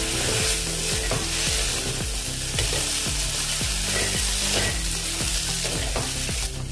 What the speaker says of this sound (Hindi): अभी हम फ्राई किए हुए सोयाबीन बड़ी डाल देंगे। अच्छे से मिक्स कर देंगे।